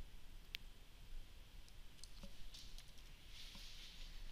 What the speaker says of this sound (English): If I go back to number one and I type in SEO